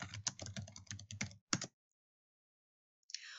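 Rapid keystrokes on a computer keyboard as a topic is typed into a search box, a dense burst of clicks for about a second and a half, one short final tap, then silence before faint clicking resumes.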